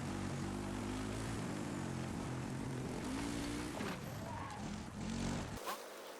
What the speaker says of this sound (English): So we're going to jump on the quad bike, that's important